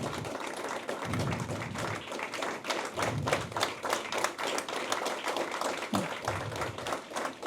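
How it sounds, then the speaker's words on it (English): Audience clapping and applause at an awards ceremony, a dense run of sharp hand claps that keeps going at a steady level and stays loud and close, with no talking over it. "Let's keep the claps going, ladies and gentlemen."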